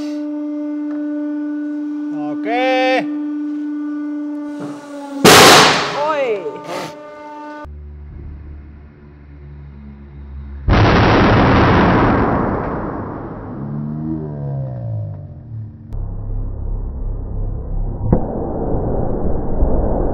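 A 20 mm steel ball bearing, frozen in liquid nitrogen, bursts under a hydraulic press with a loud, sharp crack. Ringing tones follow, then a second harsh burst that fades in a long, whooshing decay.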